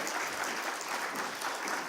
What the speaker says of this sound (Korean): 박수해 주시고 격려해 주시기 바랍니다